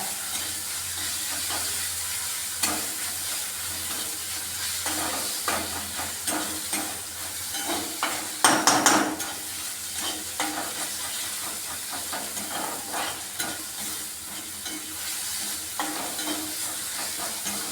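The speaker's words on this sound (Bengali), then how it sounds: "দেখো আমি লাল লাল করে ভাজতে থাকছি পেঁয়াজ রসুন সব, আদাটা" Onion, garlic and ginger sizzle in hot oil in a pan, a steady frying hiss with intermittent stirring scrapes and clinks, close-up and fairly soft, with no talking.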